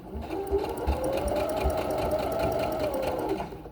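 Sewing machine stitching a rolled hem on stretchy jeans fabric, a steady close whirring hum running without pause for nearly four seconds with faint rhythmic needle thumps underneath.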